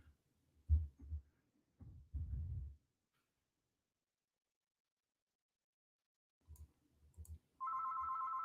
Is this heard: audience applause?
no